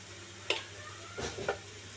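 Onion and garlic fry golden in a pan with cumin powder for a spicy boal fish curry. A few soft scraping stir strokes sound over a faint, low sizzle, quiet and close.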